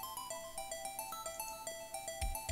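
Phone ringtone from Phoenix Wright: Ace Attorney after using redial, a steady electronic ringing melody with repeating tonal beeps, fairly quiet and continuous, with a soft thump near the end and no voices.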